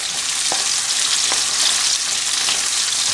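Four kinds of vegetables fry in a kadai with onions, a steady loud hiss of hot oil running throughout, with a few soft stirring knocks at intervals.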